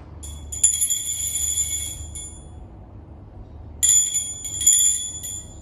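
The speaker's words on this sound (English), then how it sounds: "I am ringing the bell" A hand bell is rung indoors in two bursts of bright metallic ringing, the first longer and the second starting after a pause, heard clearly over a quiet low hum.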